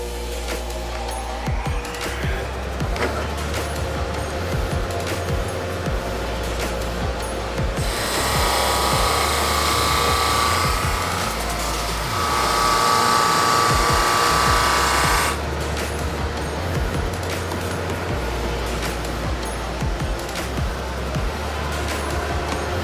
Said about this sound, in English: I've already adjusted the drum sander to the right height for this cutting board